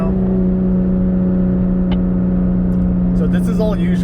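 Supercharged 2018 Toyota Tacoma engine droning steadily while towing uphill in third gear after a downshift, a loud constant low hum with faint higher whine, a talking voice partly over it near the end.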